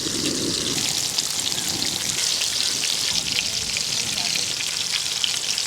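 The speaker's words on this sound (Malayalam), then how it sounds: "നമ്മുടെ മീൻ പൊരിക്കാനുള്ള സാധനം നമ്മളെടുത്ത് നമ്മുടെ എണ്ണയിലേക്ക് ഇട്ട് കൊടുക്കുകയാണേ." Pieces of a large 50 kg tuna fry in hot oil, a loud, dense, continuous sizzle and crackle that stays steady throughout with no talking.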